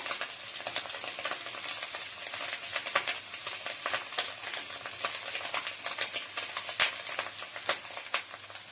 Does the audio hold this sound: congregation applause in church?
no